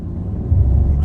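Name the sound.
Peugeot 2008 1.2 PureTech 110 hp car accelerating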